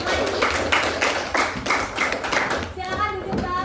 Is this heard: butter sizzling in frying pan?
no